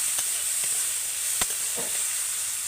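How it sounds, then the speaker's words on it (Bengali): Ginger, garlic, onion and capsicum fry in a pan with chopped tomato, giving a steady close sizzle with a few soft stirring scrapes and no talk. "আদা রসুন পেঁয়াজ আর ক্যাপসিকামটাকে কিন্তু আমি হালকা করে ভেজে নিয়েছি এবার ওর সাথেই আমি দিয়ে দেব টমেটো কুচি"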